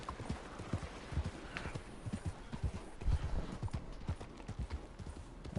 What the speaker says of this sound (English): This horse is running out of energy.